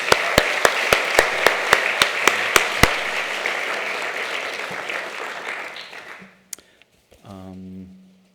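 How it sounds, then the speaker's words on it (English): Sharp, regular claps lead into a broad wash of audience applause for award winners at a fall conference, fading out after about six seconds into near silence, followed by a brief voice. "one last round of applause for these wonderful folks"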